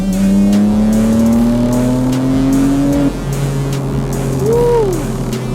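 A tuned BMW F87 M2 Competition accelerates hard, its engine note rising steadily through one gear, then dropping at the shift before climbing again, loud and close, with faint tyre chirps.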